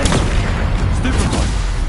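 A Confringo fire spell explodes in Hogwarts Legacy as a dense, loud, booming blast that fills the whole moment, with rumbling low end and crackling bursts throughout.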